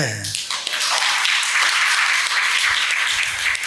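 A church congregation claps through a Sunday service, a dense, steady burst of applause that starts abruptly and keeps going. Voices carry faintly beneath the clapping.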